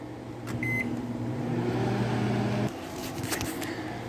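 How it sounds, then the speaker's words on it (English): Microwave oven running with ramen inside, a steady low hum with a short beep near the start, then the hum drops off partway through as the oven stops, leaving quieter room noise. "throw it back in your microwave"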